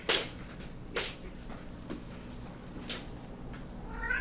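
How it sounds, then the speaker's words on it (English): A cat crying in a bathtub, several separate plaintive meows spaced roughly a second apart, fairly quiet with slight echo and faint background noise between calls. "Why are you crying in the tub?"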